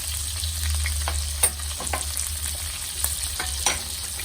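Steak frying in a pan makes a loud, continuous sizzle, with a low steady hum underneath and occasional brief crackles and spatters.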